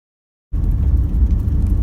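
A Toyota Land Cruiser Prado pulls away along a dirt track, its engine starting abruptly after a moment of silence and then holding a steady, loud, close rumble with road noise.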